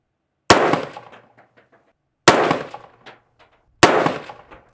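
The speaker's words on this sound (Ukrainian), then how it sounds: "стрельнули на групу двічі по три постріли" Three sharp, loud rifle shots from a Sig Sauer MCX Spear in .308 with a 13.5-inch barrel, firing 175-grain hollow-point boat-tail rounds at a 100-metre range, evenly spaced about one and a half seconds apart, each cracking then decaying with a ringing tail.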